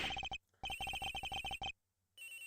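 An electronic phone ringtone in the Ace Attorney Investigations video game chirps in rapid, loud bursts, a short run followed by a longer one, then cuts to near silence before faint game sound returns.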